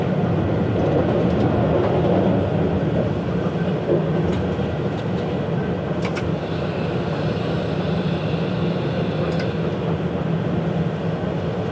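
A freight train rolling along the line approaching Viry-le-Grand station, heard from on board as a loud, continuous rumble and roar of wheels on rails with faint clicks, with no talk.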